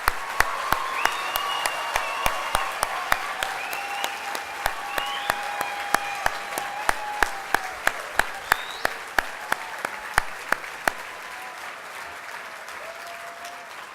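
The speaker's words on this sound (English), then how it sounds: "let's have one more huge round of applause for all our graduates." Graduates at a college graduation ceremony receive applause: a dense wash of clapping from a large hall, with sharp individual claps standing out near the microphone before it thins toward the end.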